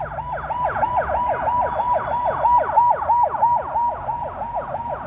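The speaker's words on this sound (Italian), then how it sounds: "Ambulanze." An ambulance siren on a street in Ulaanbaatar, Mongolia, cycling in a fast, regular yelp that repeats loudly and evenly throughout, with faint traffic rumble beneath.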